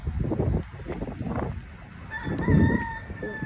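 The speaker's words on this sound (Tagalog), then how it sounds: "Uy, naay manok ba? Naay manok." A chicken clucks and calls nearby after some muffled rustling and movement noise, heard outdoors at close range.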